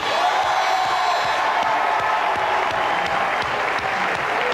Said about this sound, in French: je voudrais des applaudissements pour une jeune comédienne américaine qui s'appelle Caroline Finet